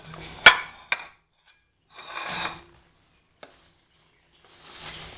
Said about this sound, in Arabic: ودوك نبدا نخلط